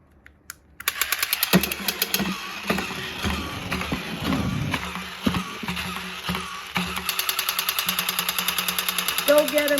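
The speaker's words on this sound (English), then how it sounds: "the figure has this feature where it crawls and shoots" Bootleg toy soldier figure crawling and shooting, a battery motor's rapid clicking and whirring with sharp repeated clacks that build into a fast ticking rattle, close and loud, alongside bursts of talking.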